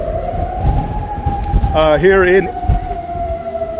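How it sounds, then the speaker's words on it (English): Warbling emergency sirens wail during a windy storm, a steady siren tone running throughout with a louder rising-and-falling siren swelling in the middle, heard from a sheltered overhang amid gusting wind. "You can hear the sirens going off"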